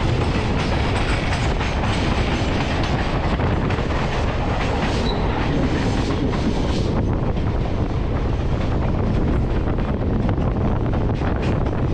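13152 Jammu Tawi Kolkata Express train running on rails, a loud, steady rumble with continuous clickety-clack and wind buffeting throughout, no voices.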